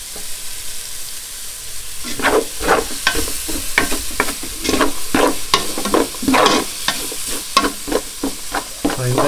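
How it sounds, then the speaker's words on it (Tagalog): Chopped onions and garlic fry in oil in a pan, a steady sizzle punctuated by repeated spatula strokes scraping and stirring at an irregular pace, close and moderately loud with no talk. "hintayin lang natin itong mag-translucent yung kulay ng onions, tapos medyo ma-fry yung garlic"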